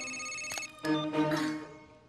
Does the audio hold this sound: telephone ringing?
yes